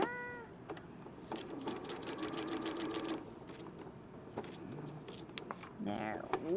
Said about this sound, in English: starting at the dot, we do our back tack, or back stitch